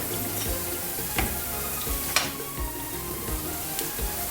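Saltfish fritters frying in hot oil, a steady close sizzle with soft crackles and occasional taps as the pieces are turned.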